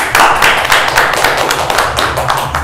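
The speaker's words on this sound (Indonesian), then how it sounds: "Luar biasa sekali, tepuk tangan dulu dong" An audience at a local music talent event claps in quick, uneven bursts that stay loud and close for a few seconds, with no talk over it.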